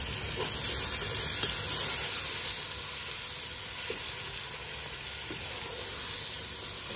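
Tomatoes go into a pan of frying masala for keema karela, giving a steady close sizzle and hiss that holds for several seconds with slight swells and no talk.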